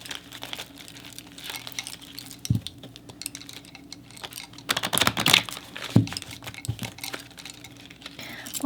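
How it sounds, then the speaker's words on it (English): Tarot cards, a Garfield deck, shuffled at close range: brisk papery riffles and taps in uneven bursts, with a few sharper snaps over a quiet steady hum. "I'm just going to shuffle the deck briefly here."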